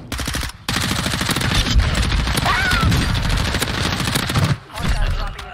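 Loud, close automatic gunfire from a Lachmann Sub (MP5) in Warzone 2 on Al Mazrah, rapid shots rattling almost continuously with brief gaps, while a voice talks underneath.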